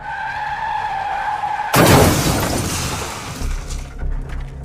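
A motorcycle crash into an oncoming truck: a sudden loud impact bursts in over a low engine drone, then scraping and shattering debris trail off over a few seconds.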